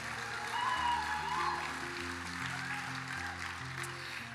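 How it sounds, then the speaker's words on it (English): Crowd applause at an ambassador coronation ceremony, a moderate, steady wash of clapping with background music playing underneath, no talking over it. "Let's give them one more round of applause for being such great ambassadors for our city."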